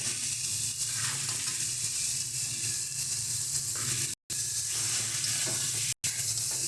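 Pre-fried lentil dumplings (bori) tipped into a pan of softening tomatoes for a cauliflower and rohu fish curry, giving a steady, close, even sizzle of frying with faint stirring and two brief dropouts.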